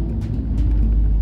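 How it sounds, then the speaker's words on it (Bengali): A car engine braking on a narrow single-lane forest road in Palamu Tiger Reserve, a close, loud low rumble held steady over a short stretch. "আমি আপাতত ইঞ্জিন ব্রেকিং এ নামলাম।"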